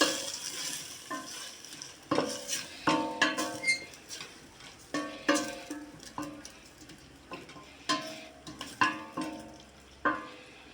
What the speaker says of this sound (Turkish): Şimdi baklalarını koyuyorum arkadaşlar. Baklalı ve güzelce bir kavuracağım.